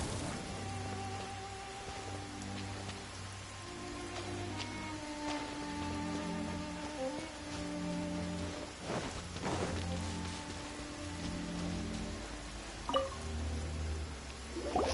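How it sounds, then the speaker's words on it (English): Steady rain falls across the open world of Genshin Impact, a continuous wash of drops close by, with game music tones and soft effects layered over it and no voices. "It's rain."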